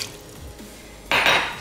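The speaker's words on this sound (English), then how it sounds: "Give a little stir, stir, stir." A spoon stirs turkey carnitas in a metal pot, starting as soft scraping and then turning into a louder burst of clanking against the pot's sides that fades gradually, with no voices over it.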